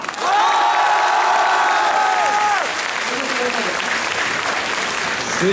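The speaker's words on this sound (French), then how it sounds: "Applaudissements pour Fanta!" A convention crowd at the Tokyo Game Show 2012 claps and cheers loudly, with a few whoops. A sustained tone rings over the first half, then fades, and the applause carries on steadily to the end.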